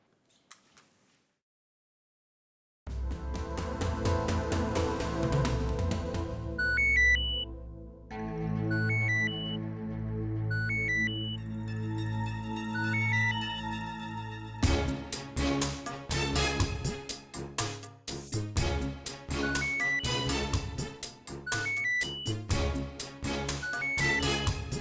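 A phone rings on an unanswered call in a Hindi TV drama, starting after a brief quiet, then a repeating melodic ringtone pattern plays loudly and clearly on its own, shifting to a busier, denser phrase midway.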